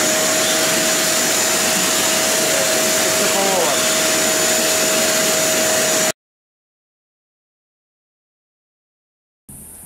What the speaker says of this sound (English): Dry vacuum cleaner